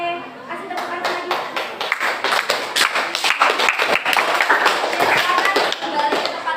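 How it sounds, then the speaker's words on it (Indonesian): A classroom of students claps together, a dense burst of close hand claps that builds and keeps going for several seconds with voices mixed in underneath. "kasih tepuk tangan lagi"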